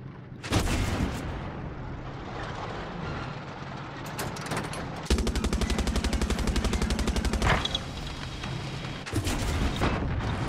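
Heavy weapons fire from a tank in Far Cry 6, with loud booming blasts and a long rapid machine-gun burst in the middle, followed by further bangs and rumbling battle noise.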